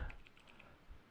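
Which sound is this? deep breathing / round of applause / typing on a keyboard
typing on a keyboard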